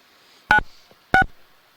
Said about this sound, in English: Hey, video, we can hear the phone dialing out.